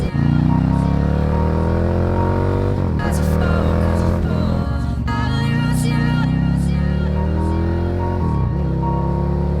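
A custom Ducati Monster motorcycle rides along with a loud, continuous engine drone that rises and falls through gear changes, heard close up without talk.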